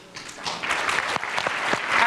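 Audience applause at a panel discussion on diversity in tech, a steady patter of clapping from a room full of people, fairly close and building slightly toward the end.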